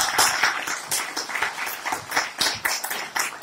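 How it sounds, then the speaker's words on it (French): An audience applauding at a masterclass, a brief burst of brisk, uneven clapping from a modest-sized group, close and fairly loud throughout. "Donc, Luc, est-ce que vous pouvez faire un tonnerre d'applaudissements pour Luc Grimm?"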